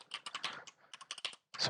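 Rapid bursts of keystrokes on a computer keyboard as a command is typed into chip layout design software, clustered clicks with a short pause before a final flurry, close and moderately quiet.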